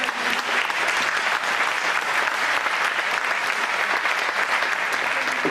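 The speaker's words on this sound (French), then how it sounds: "Je voudrais également qu'on les applaudisse" A crowd at an awards ceremony for French youth club sport boules finals breaks into applause, dense and loud, holding steady throughout, with almost no talk over it.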